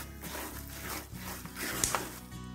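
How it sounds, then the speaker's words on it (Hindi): Wheat flour is stirred and roasted in a pan for gond dry-fruit laddu. Soft, quiet scraping and rubbing strokes repeat irregularly, close by. "अब हम आटे को गोल्डन ब्राउन होने तक भून लेंगे।"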